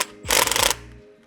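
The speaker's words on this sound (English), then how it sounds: "we'll tighten the hose clamp down around the hose barb." A hose clamp is cinched down around a hose barb on a digital press controller using an 8 mm hex driver, giving a short burst of close, loud ratcheting clicks that fades into a quiet tail.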